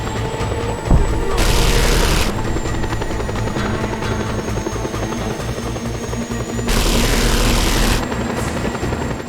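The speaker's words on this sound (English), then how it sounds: "Maybe I'm just hearing that plane. You know, plane go by." An aircraft from the video game Just Cause 2 drones steadily throughout, with two loud, broad roaring bursts sweeping past near the mic, like close fly-bys, over a rumbling engine bed.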